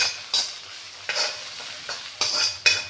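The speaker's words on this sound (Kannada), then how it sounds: "ಈರುಳ್ಳಿ ಚೆನ್ನಾಗಿ ಫ್ರೈ ಆಗಬೇಕು" Onions frying in a pan for egg fried rice, a steady close sizzle broken by four or five sharp scraping stirs spaced about a second apart, with no voices.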